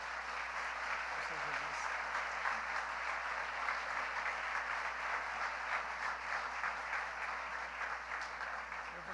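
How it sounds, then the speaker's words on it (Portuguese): A congregation at an evening missionary conference claps steadily and loudly throughout, a dense sustained wash of applause with no break. "Vamos dar um aplauso bem forte para Jesus"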